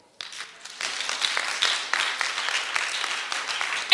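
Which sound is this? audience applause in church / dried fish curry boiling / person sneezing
audience applause in church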